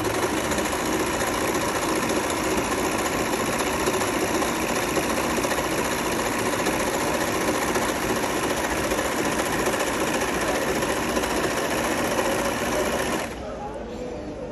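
A Singer Heavy Duty 14HD854 overlock sewing machine stitching a cord edge, a loud, steady high-speed mechanical whir running continuously up close before cutting off abruptly near the end.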